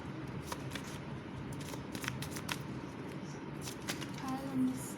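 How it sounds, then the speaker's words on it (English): Tarot cards are shuffled by hand in quick, soft riffling bursts, close and quiet, with a brief voice murmur near the end. "I'm going to shuffle."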